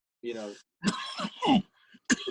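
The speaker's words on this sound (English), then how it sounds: "that's not a Corona cough" A couple of short, harsh coughs close to the microphone, broken up by brief pauses.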